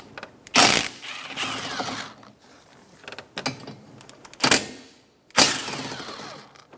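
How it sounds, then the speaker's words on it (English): A socket wrench ratchets off the 15mm wiper arm nuts on a Chevrolet Sonic, giving several loud, separate bursts of clicking mechanical rattle spaced a second or two apart, with quieter ticking between them and no talk. "Using a 15mm socket, remove the nuts for the wiper arms."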